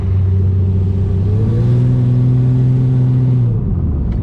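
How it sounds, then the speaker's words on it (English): A car with air in its brakes and power steering problems, its engine running and revving up steadily, a loud close rumbling drone that climbs in pitch before dropping off near the end. "Let's see if I can still take it for a drive."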